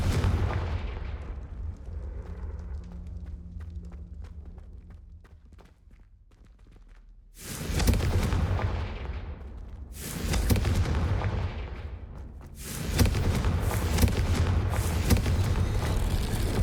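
Confringo blasting spells cast in Hogwarts Legacy, heard as several loud, booming explosive bursts that arrive in close succession after a quieter stretch, each blast ringing out before the next.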